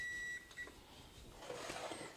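Kitchen timer beeping in a home kitchen while a pumpkin spice candy mixture cooks on the stove, a thin electronic tone at the start, then quieter kitchen clatter and faint bubbling.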